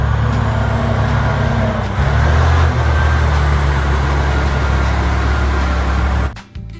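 A Kabolite RC mining truck model runs with a loud, steady engine-like drone and low rumble. The sound holds close and constant, then cuts off abruptly near the end.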